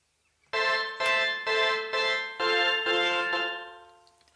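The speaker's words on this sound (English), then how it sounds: "So this is the sound of the Volca FM." Korg Volca FM synthesizer playing a run of seven bright, harmonically rich notes in steady succession, each with a sharp attack and slight decay, the last one ringing out and fading alone.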